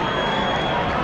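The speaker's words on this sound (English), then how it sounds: "Everyone's clapping" Football stadium crowd at the end of a Málaga match, a dense, loud wash of clapping and crowd noise filling the brief moment without a break.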